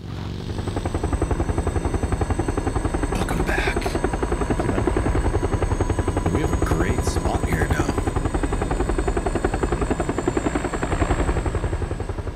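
A helicopter flies in the video game PUBG, a loud rhythmic rotor chop that holds steady throughout, close and dominant, with faint other game noises briefly over it.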